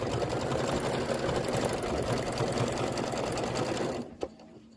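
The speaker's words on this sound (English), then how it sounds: "This is stitching out the tomato fill." An embroidery machine runs steadily as it stitches out a tomato fill for a taco cord organizer, with a fast, even needle rhythm that stops abruptly near the end, followed by a small click.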